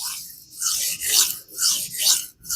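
A Shan Zu Peafoul EDC knife is drawn across a budget diamond sharpening plate in four or five close, hissing rasping strokes at a steady back-and-forth rhythm, with no voice.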